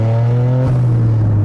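Loud exhaust of a Toyota GR Yaris race car: a deep, steady droning engine note with strong harmonics, close and continuous, dipping briefly mid-clip before holding its level.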